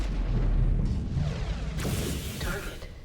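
A gauss rifle shot destroying a target in MechWarrior 5: Clans, a deep booming blast followed by a rumbling impact and a sharp burst near the end, loud and close with a low mechanical hum beneath.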